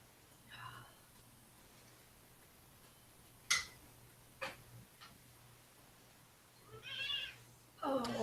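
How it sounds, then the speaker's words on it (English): A house cat meows in a few short, separate calls near the start and again toward the end, fairly faint, with sharp clicks and a low steady hum in the background. "Oh, kitty."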